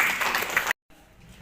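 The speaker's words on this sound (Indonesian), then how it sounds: "Kita tepuk tangan untuk beliau" Seminar audience applauding, a brief burst of dense clapping that cuts off abruptly, followed by quiet room tone.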